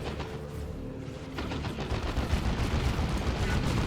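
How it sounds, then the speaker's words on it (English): A heavy bolter turret in Dawn of War 2: Retribution pours out sustained rapid automatic fire, thick and continuous, with the chatter of battle and scattered impacts around it. "Heavy bolted turret."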